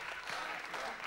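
Audience applause for the singer on a Bulgarian TV music academy show, a steady burst of clapping filling the whole short moment, with some voices mixed in.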